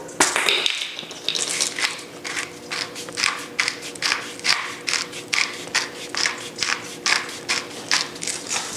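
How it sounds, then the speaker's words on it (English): A pepper mill grinds fresh black pepper over sautéed shrimp, making a close, rhythmic series of gritty crunching twists, about a dozen regular bursts in a row with no talking. "I'm going to add a little bit of pepper to it. I'm going to use some fresh ground."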